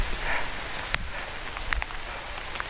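Steady rain patters on a campsite near Bern, Switzerland, a soft continuous hiss with a few sharper drops tapping nearby surfaces.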